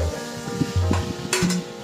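Cooked potatoes stirred with onions in a pan while making aloo palak, giving a few soft scraping stirs and a light sizzle, close and fairly quiet, with no talking.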